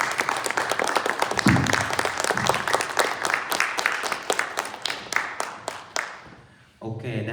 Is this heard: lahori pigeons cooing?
no